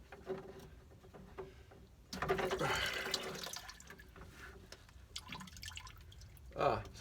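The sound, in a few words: coolant dripping from pulled-off hydronic hose into bucket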